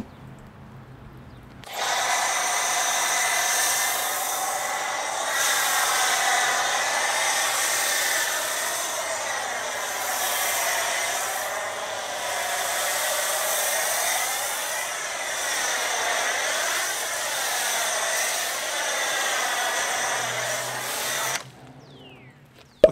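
A pressure-washer water spray rinses down a car during foam cannon maintenance, starting abruptly and then hissing loudly and continuously for about twenty seconds, with a steady motor whine underneath, before cutting off sharply.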